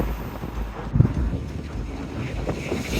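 Strong wind sweeps across a nearly mile-long bridge over a Scandinavian fjord, a steady low roar with buffeting gusts on the microphone and one sharper thump near the start, with no talking.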